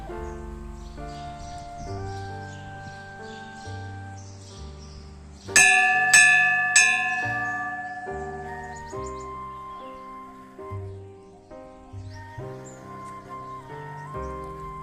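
A temple bell at Biharinath Hill in Bankura rings out three times in quick succession, each bright clang decaying over steady tonal sounds and faint outdoor ambience.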